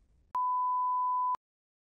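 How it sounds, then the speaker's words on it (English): A single clean electronic beep from a TOEFL speaking practice test, steady in pitch and lasting about a second, alone against silence. "You may start preparing after the beep."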